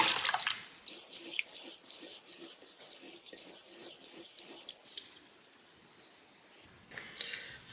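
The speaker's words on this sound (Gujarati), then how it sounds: "2 થી 3 પાણીથી આપણે એને સરસ ધોઈ લઈએ" Water sloshes and splashes as lentils are washed in a bowl, with small wet clicks and drips, then quiets to faint trickling before a last brief stir.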